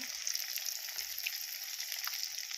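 Fish frying in hot oil in a home kitchen gives a steady, close sizzle with fine crackling throughout and no talk.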